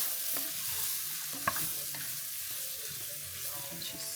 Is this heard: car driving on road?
no